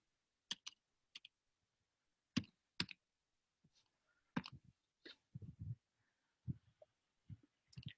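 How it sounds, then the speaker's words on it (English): Someone types on a computer keyboard, entering a name into a search field: scattered clusters of sharp key clicks in short bursts with pauses, close and fairly quiet, no talking. "so if I just start typing McDonald,"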